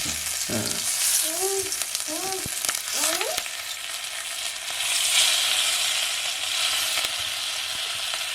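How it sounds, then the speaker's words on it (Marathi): Potato slices fry in oil with curry leaves over a wood-fired stove, a steady crackling sizzle close by with a few brief voice sounds early on. "तेल टाकलंय आणि जरासा नाही कढीपत्ता टाकते बघा. मस्त हे बटाटे ठेवते."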